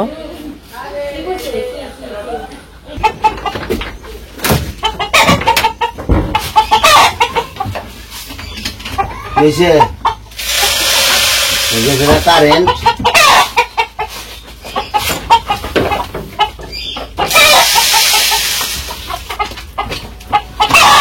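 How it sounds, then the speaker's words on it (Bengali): Chickens clucking steadily while being fed in a village yard, several birds close by with bursts of squawks, under frequent talking. "মুরগিরে খাবার দিয়ে দিলাম"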